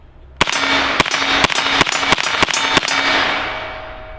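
Rapid semi-automatic shots from an IWI Tavor fitted with a 9mm conversion kit, seven sharp, loud reports in a quick, fairly even string, each ringing out briefly before the next.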